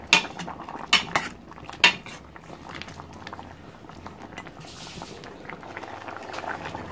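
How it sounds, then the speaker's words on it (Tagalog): White beans with tuna scrap and dried squid simmering in a pot, a steady soft bubbling boil after a few sharp clinks of a utensil against the pot at the start. "Isang kulo na lang bago maluto."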